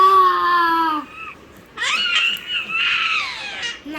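A baby screams and cries in loud, close bursts, a long wail followed by a short pause and then shrill rising cries, with no talking over it.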